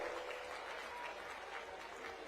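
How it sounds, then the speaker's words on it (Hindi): A political rally crowd in Punjab gives sustained, even applause, a dense wash of many hands clapping at a distance with no break. "एक बार जोरदार तालियों के साथ दोबारा से स्वागत कर दीजिए"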